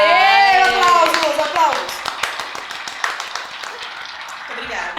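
Brief clapping welcomes a guest psychologist on a talk show about teen pregnancy, a short burst of hands mixed in under excited talking and a presenter's voice.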